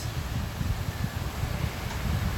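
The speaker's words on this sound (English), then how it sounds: "But it is windy" Wind gusts outdoors buffet the microphone in a steady low rumble, loud and continuous for the whole stretch with slight swells, with no voice over it.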